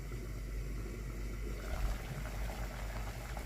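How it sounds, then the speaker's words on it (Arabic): Water bubbling at a boil in a pot on the stove, a steady, close rumbling simmer with dense low churning that continues evenly throughout, with no voices. "حطيت ميه في حله تغلي"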